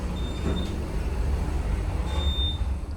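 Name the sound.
replaced motor of Schindler 400A traction elevator running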